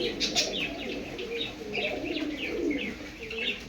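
Pigeons coo in soft repeated throaty phrases, close by, with light chirps and a brief flutter of wings among them.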